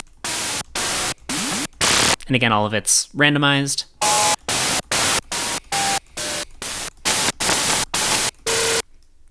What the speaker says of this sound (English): This is an operator patch that essentially just makes noise, kind of like TV static or radio static or something like that.